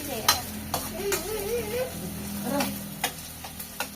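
Fish curry with tomatoes cooking slowly in a pan, a soft sizzle with several sharp clinks of a utensil stirring against the pan, while a voice talks quietly over it.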